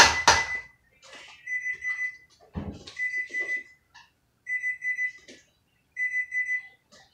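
A kitchen timer during home canning of diced tomatoes gives short bursts of high, thin beeps that repeat in four evenly spaced clusters, with a brief clatter of kitchenware near the start.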